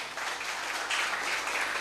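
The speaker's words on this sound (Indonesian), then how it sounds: "mari ya kita beli aplaus" An audience claps at a talk, a short burst of dense, even applause that fills the whole moment.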